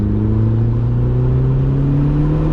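A turbocharged DSM car at full throttle, its engine droning loud and steady as the pitch climbs gradually, with a strong rumbling tone close up inside the cabin.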